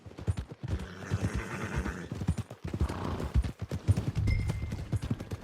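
Horses in the Red Dead Redemption 2 video game at a stable area: hooves clip-clop steadily throughout, with a loud neigh near the end and rumbling background sound.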